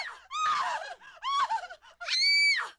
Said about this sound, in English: a deafening scream pierced the air